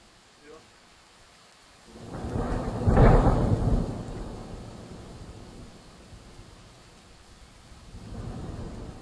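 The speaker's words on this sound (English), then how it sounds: "We can hear proper sound of rain and we have some thunders right here." AI-generated rain and thunder: a soft, steady rain hiss carries a rolling thunderclap that swells loudly around the middle and fades, followed later by a second, quieter rumble.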